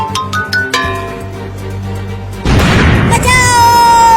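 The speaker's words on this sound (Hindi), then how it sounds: "फिर से अपने मम्मी के पास पटाखा फोड़ रहे हैं।" A firecracker bursting in an animated cartoon, a sudden loud noisy blast partway through that follows cartoon voices and tones, then trails off under a ringing tone.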